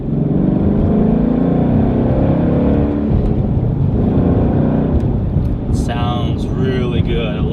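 A car engine drones loud and steady with a throaty exhaust rumble, and a voice speaks briefly over it near the end.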